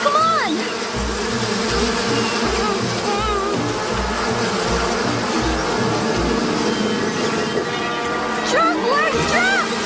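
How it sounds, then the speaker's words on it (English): Swarm of angry bees buzzing loudly and continuously in the foreground, with a dense droning hum throughout and cartoon voices calling over it. "Oh, I hope the bees are not very angry with us."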